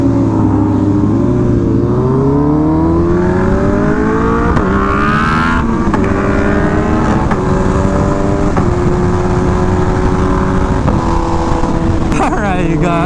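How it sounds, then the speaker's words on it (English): A group of motorbikes riding on the road, engines droning and rising and falling in pitch as they rev and shift, loud and continuous, with a gusty wind rush over the whole passage. "This is very weird, seeing all my bikes on the road."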